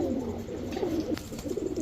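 A male Pakistani Gangchil Kaldom pigeon coos in low, rolling phrases, close and steady, with no talk over it.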